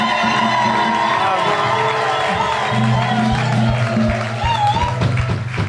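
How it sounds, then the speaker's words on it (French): Worshippers in a church cheer and acclaim loudly. Mixed shouts and whoops rise together with music in the background, and a voice speaks over the crowd. "Les habitants de Suisse, acclamez pour le Seigneur."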